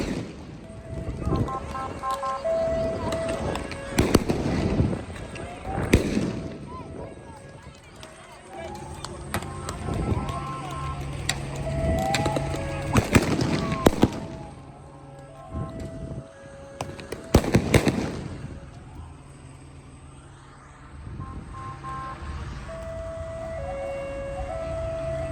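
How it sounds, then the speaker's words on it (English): Fireworks crack and pop in bursts amid a street riot, with sirens wailing and shifting in pitch, crowd noise and shouting voices mixed throughout a loud, chaotic outdoor scene. "they were also shooting fireworks at the police"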